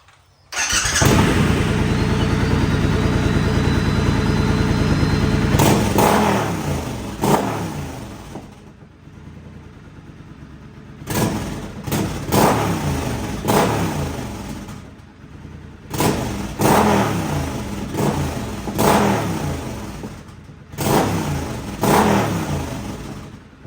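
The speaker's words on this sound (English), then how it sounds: "So let's fire it up, give you a few revs here" A Triumph Scrambler XE with a chrome slash cut exhaust starts up and settles into a loud idle, followed by several sharp revving bursts separated by lower idle stretches, close and prominent with no talk.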